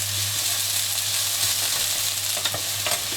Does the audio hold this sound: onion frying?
yes